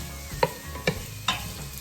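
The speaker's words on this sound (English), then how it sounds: "I'm sauteing everything together, and it's looking good already" Onion and celery sauté in hot oil, with a soft sizzle broken by three distinct stirring clacks of a utensil against the pan, spaced about half a second apart, all close by and without talk.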